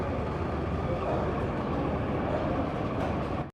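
A moving train rumbles steadily, a loud continuous low roar of carriage and track noise from inside the train, with voices faintly present beneath.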